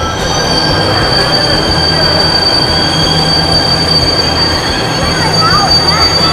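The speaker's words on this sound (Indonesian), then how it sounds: "My man Jared Mo sedang memperhatikan kedatangan MRT dari stasiun Bundaran HI menuju Lebak Bulus" A Jakarta MRT train arrives at Bundaran HI station, heading toward Lebak Bulus, with a loud, steady rumble of wheels on rail and a high electric whine running throughout, plus faint squeals near the end.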